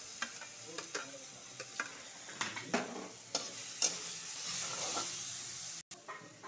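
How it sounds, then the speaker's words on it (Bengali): Onion and chilli tip into hot oil in a pan for a tuna fish dish, giving a faint steady sizzle broken by a string of short stirring scrapes and clacks, with no talking. "পেঁয়াজ আর লঙ্কা একসাথে ঢেলে দিব।"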